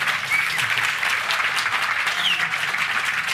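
Steady, sustained clapping from a comedy club audience at a stand-up show, dense and even throughout with no voices over it.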